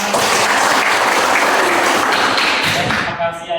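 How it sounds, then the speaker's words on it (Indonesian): A group claps in steady, dense applause at a school class session. The clapping stays loud throughout and fades slightly at the very end. "Mari kita tepuk tangan."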